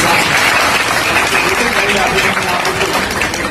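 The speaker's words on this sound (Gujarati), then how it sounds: "ખરેખર તાળીઓના ગગડાથી" An audience at a community education meeting claps steadily for a student who came first in the state, a dense wash of applause throughout with faint voices underneath.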